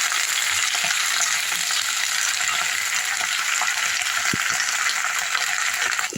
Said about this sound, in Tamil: புதினா வதங்குற மாதிரி.